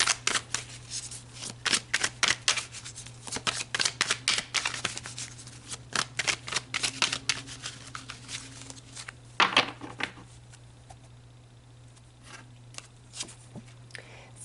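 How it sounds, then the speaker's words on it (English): A deck of tarot cards is shuffled and drawn by hand, with rapid riffling flicks and soft slaps that slow and thin out over about fifteen seconds, over a steady low electrical hum and no talking. "So let's pull some more cards."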